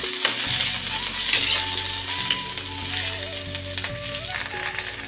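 Green chillies frying in an oil-filled pan for chicken sambar, a loud, steady sizzle with scraping and clinking of a utensil against the pan throughout, with no talking.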